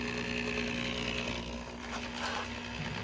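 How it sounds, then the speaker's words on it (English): Continuous mechanical drone of a drill running slowly and steadily to prime oil in an LS engine, fairly faint with a droning hum. "You see how slow literally the drill's moving"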